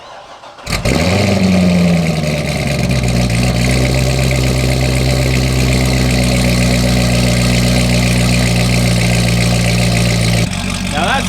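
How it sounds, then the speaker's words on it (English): A Corvette ZR1 with a catless stock exhaust fires up and settles into a loud, steady, deep rumbling idle that holds close and continuous before cutting off at the end. "Now that sounds like a Corvette. That sounds how it should sound. Got a nice little deep rumble to it"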